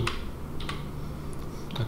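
A few scattered keystrokes on a computer keyboard, separated by short pauses, close-miked over a steady low room hum, with no voices.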